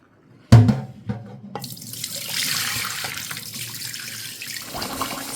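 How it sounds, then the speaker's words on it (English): Rice is rinsed under a running kitchen sink tap, opening with a sharp knock and splash before a steady close rush of water pours continuously, with faint rustling and trickling throughout. "So this is about the 7th time I'm rinsing the rice."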